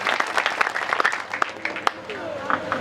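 A crowd at a Hindi poetry gathering claps warmly, a loud, uneven patter of many hands at close range with some voices mixed in.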